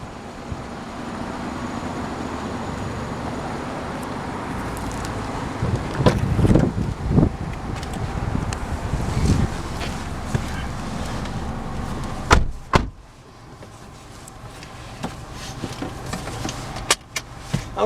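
A 2017 Nissan Rogue S AWD drives along a road with a steady interior hum of engine, tires and wind, broken by bumps and a sharp thump midway.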